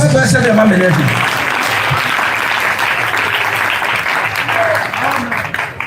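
A church congregation at a Pentecost jubilee service applauds loudly, with a dense wash of sustained clapping and a few voices rising over it before it tapers off.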